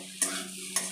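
A spatula scrapes through papaya frying in a pan with sugar added, two sharp stirring scrapes over a steady low sizzle, close and fairly quiet.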